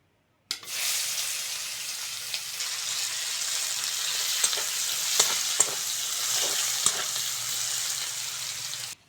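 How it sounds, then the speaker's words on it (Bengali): Chopped onion sizzles steadily in oil left over from frying fish, a loud, continuous hiss close by with a few faint knocks of stirring. "মাছ ভাজার তেলে কুচনো পেঁয়াজটা দিয়ে দেবো"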